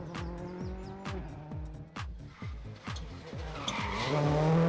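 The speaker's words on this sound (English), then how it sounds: "and continuing in his winning ways and seeming simply unstoppable is Jamaica's Jeffrey Panton in the Ford Focus World Rally Car." Ford Focus World Rally Car skidding through a near miss at Rally Barbados, a loud, continuous tire squeal and engine roar up close, with rapid gear-change bursts and a rising screech at the end.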